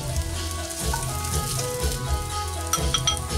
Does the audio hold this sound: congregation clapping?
no